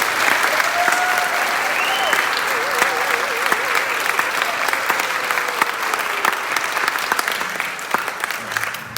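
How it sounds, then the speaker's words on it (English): Audience at a Wallace Middle School band spring concert in Kyle, Texas claps steadily and loudly for nine seconds, a dense sustained round of applause with a few faint whistles. "so I want to give them a round of applause for that."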